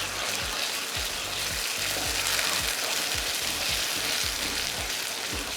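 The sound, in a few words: masala sautéing in a pan with onions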